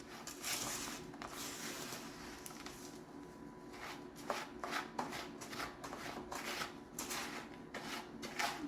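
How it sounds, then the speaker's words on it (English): Graham cracker crumbs are stirred with melted butter in a springform pan, a run of soft gritty scrapes and pats in an uneven rhythm, close and quiet. "So we're just going to moisten all of those graham crackers with that butter"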